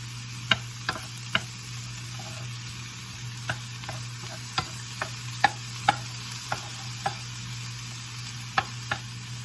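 Thai chicken stir-fry cooking in a pan: a steady, soft sizzle under a low hum, punctuated by a dozen sharp, scattered taps and scrapes of a utensil against the pan, with no talking.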